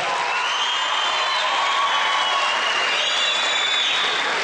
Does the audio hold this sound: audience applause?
yes